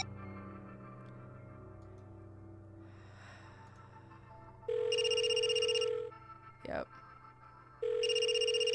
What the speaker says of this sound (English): I would never have even thought that the phone was in there.